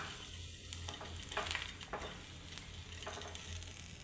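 Pav bread fries in spiced masala in a pan, giving a soft, steady sizzle broken by occasional scraping stirs.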